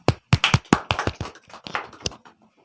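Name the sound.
audience clapping for Gaurav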